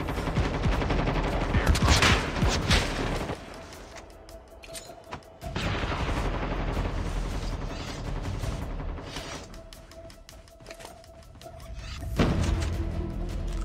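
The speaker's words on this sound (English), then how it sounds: "there are enemies in here, and enemies in here shooting at each other" Bursts of rapid gunfire in Call of Duty Mobile battle royale, enemies trading shots inside a building, come in loud clustered volleys separated by quieter gaps, with heavy impacts and a brief thump among them.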